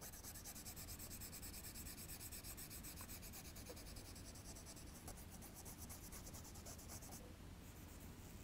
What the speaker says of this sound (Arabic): إذا نحاول نلون داخل الإطار